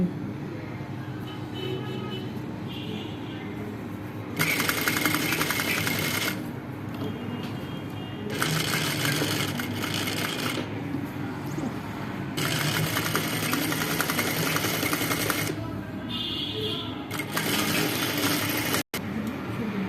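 A sewing machine stitches piping onto the side hem of a kameez, running in several steady whirring bursts of a few seconds each, separated by quieter pauses, close and moderately loud.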